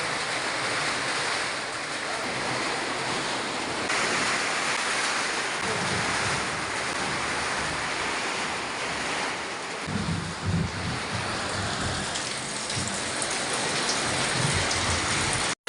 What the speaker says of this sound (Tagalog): At umulan na naman nga.